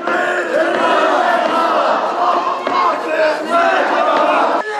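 A crowd of more than five hundred protesters marches through a city centre, a dense, continuous roar of many voices with shouting and chanting, loud and steady throughout.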